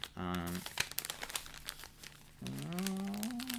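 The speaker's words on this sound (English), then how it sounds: "So I'm going to try packing these in, 2 in here, into the silver foil dish." Aluminium foil dish crinkling as boxes of Manischewitz Passover cake mix are packed into it, close crackling and rustling that runs between stretches of talk.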